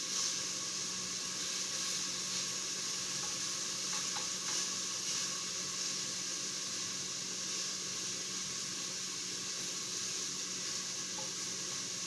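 Chicken pieces browning in a hot pan for a creamy chicken and mushroom carbonara, giving a loud, steady, unbroken sizzle and hiss with no talking.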